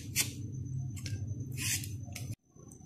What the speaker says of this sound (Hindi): इसको मैं कटर की मदद से बारीक बारीक स्लाइसेस में काट लूंगी